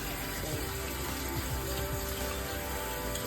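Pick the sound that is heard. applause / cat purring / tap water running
tap water running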